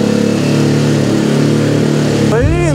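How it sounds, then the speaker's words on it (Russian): An enduro motorcycle engine idles steadily while warming up outdoors in thawing snow, a loud continuous drone, and a voice speaks over it near the end. "Сейчас наш байк прогреется."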